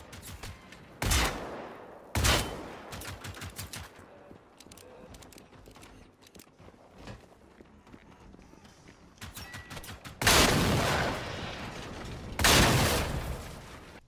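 Shotgun blasts in the video game Generation Zero, fired with the Herkfist shotgun: four loud, sharp booms spaced apart, with quieter rapid clatter and game noise between them.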